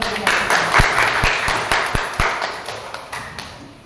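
A classroom group claps during a biology lesson: sparse, uneven claps with a few sharp, close hits standing out from a softer spread of hands, tapering off toward the end.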